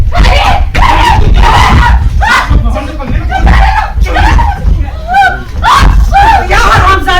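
A woman screams repeatedly in a tense domestic confrontation, loud, close bursts of shrieking and crying that rise and break off in quick succession, mixed with other raised voices.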